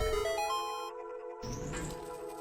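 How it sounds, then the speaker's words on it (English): Zelda video game key door opening sound effect: a sustained tonal chime that cuts off, then a rising sweep with a low rumble, fairly quiet and without talking. "That was the sound of a key door opening."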